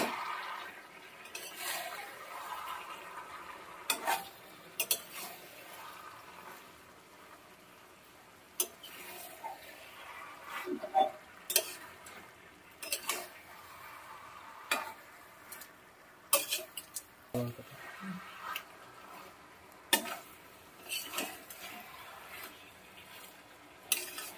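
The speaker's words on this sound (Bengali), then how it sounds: "ভালো করে নাড়িয়ে চাড়িয়ে ফুটিয়ে নেব" Chhyachra being stirred and boiled in a pan, with intermittent scraping and clinking of a spoon against the metal over a soft bubbling, close and fairly quiet.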